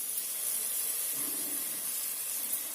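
Sweet potato pieces fry in hot oil with turmeric and ginger, giving a faint, steady sizzling hiss that stays even for a few seconds, with no voices.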